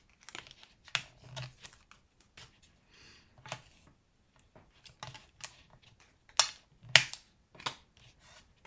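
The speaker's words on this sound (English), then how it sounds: "we need tear and tape on this piece and on this piece" Strips of tear-and-tape being pulled and pressed onto a flattened cardboard box, giving a run of sharp crinkling rips and taps with quiet gaps between them, close and moderately loud.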